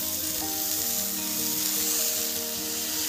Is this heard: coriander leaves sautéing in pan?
yes